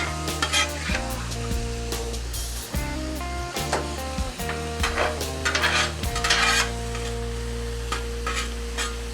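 Meat and vegetables for chili dogs sizzling on a hot griddle while a spatula turns and scrapes them, a steady close frying hiss broken by frequent metallic scrapes and taps, with no talking.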